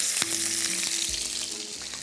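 A beefsteak fries in a pan just after being flipped, giving a dense, steady sizzle that stays loud and close throughout, with a faint low hum underneath and no voices.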